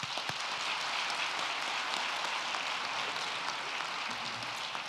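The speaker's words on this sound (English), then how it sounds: "Please give your colleagues a hand of applause for the wonderful, impactful university service." An audience at the U-M Women of Color Task Force career conference applauds task force colleagues: a continuous, even wash of clapping from a large hall, fairly distant and uniform for the full five seconds.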